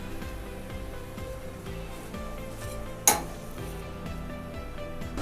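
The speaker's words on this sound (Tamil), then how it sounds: "ஒரு தோசை இப்படி சுட்டுக்கிடுவோம்." Moong dal dosa cooking on a hot pan, a steady low sizzle running throughout with a single sharp metallic clink near the middle.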